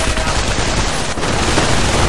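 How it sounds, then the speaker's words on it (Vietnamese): Dense, continuous machine gun fire rattles loudly and without pause during a battle in the strategy game Company of Heroes Online. "Rồi đây là súng máy và đối phương đang tấn công nhưng là đã bị súng máy bắn ghìm suốt"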